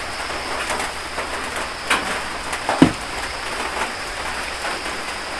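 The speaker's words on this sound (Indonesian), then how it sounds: "Hujan ternyata teman-teman." Rain patters steadily on a hut at a camp, a dense close hiss of drops with a few louder knocks and taps on the roof standing out, with no voices.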